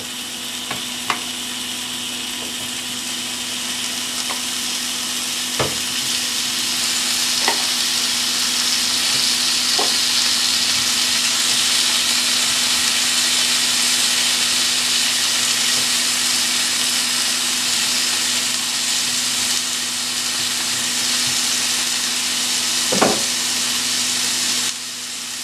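Steak and carrot spears sizzle in a hot pan, a steady, loud frying hiss running throughout with a few sharp clicks and pops scattered across it, no voices.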